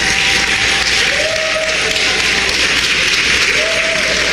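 Audience at a national reparations convention applauding, a dense, loud, continuous wash of clapping that fills the whole moment.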